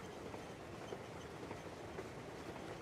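Train rolling along tracks in the video game Crimson Desert, a continuous rumbling roll with faint rhythmic clicks, steady and moderately quiet with no talk.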